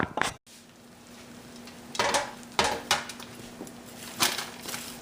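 A spoon scrapes and clanks inside a pot while gundpaak, a jaggery-based sweet, is stirred, giving several separate dull knocks and scrapes with quiet gaps between them.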